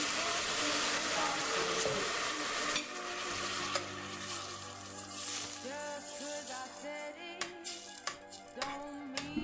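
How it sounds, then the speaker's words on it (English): Cilantro, onion and tomato paste sizzling in hot ghee in a pot, a crackling fry with stirring and scraping of a utensil against the pot, close and fairly quiet, with faint voice in the background. "Dump your cilantro, onion, and tomato paste into the pot."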